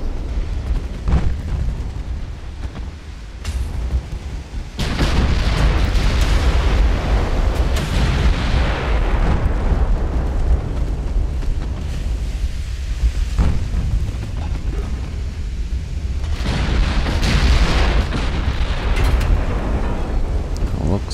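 Naval gunfire and bursting shells in the warship game Ultimate Admiral: Dreadnoughts, a dense continuous rumble of heavy booms with stronger blasts near five and seventeen seconds, loud throughout with no pauses.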